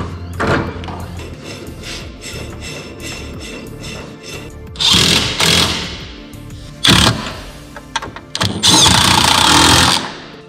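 Rattling power-tool bursts while fitting coilover suspension on a BMW E36 ute build, loud and close, with clanks and thuds between several long buzzing runs.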